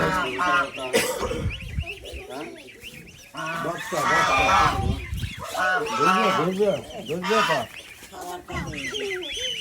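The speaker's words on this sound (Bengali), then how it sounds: "রাবিয়া হাঁস মুরগি বিড়াল কাউকেই শান্তি দিচ্ছে না" Ducks and chickens call loudly in a backyard at close range, a dense run of honking quacks and clucks in bursts, with a voice briefly mixed in.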